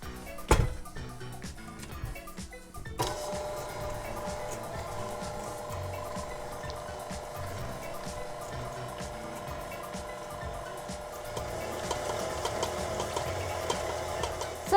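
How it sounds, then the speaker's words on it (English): A blender whirs through water, a packet of yeast and a tablespoon of sugar for soft pretzel dough, starting after a few seconds of small clinks and running as a steady, moderately loud mechanical drone to the end. "Now blend it."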